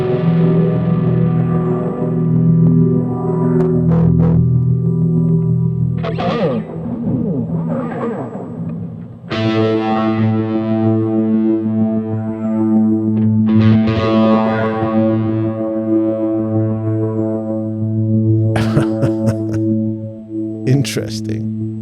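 Telecaster-style electric guitar played through a Behringer copy of a Moog effects pedal, giving a dirty, distorted, warbling tone; loud, close chords and sustained notes ring out with some swirling modulation.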